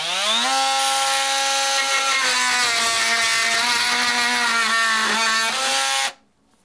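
An oscillating multi-tool with a freshly sharpened blade, a loud buzzing whine cutting steadily, its pitch wavering slightly under load, then cutting off abruptly into near silence.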